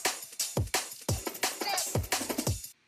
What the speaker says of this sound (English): So then I end up with a parallel bus that sounds something like this.